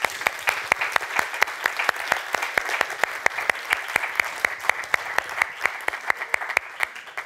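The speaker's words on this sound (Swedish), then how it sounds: "kan vi alla ge en applåd till Linköpings universitet?" An audience applauding Linköping University at an alumni award event, steady sustained clapping with distinct individual claps standing out, close and continuous for several seconds.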